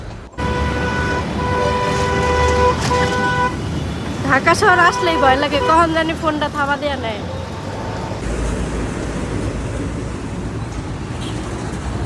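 A train passes through Dhaka city with a loud, sustained horn blast up close, followed by rumbling street traffic. A person speaks over the traffic.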